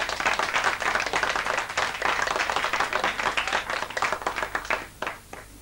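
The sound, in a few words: studio audience applause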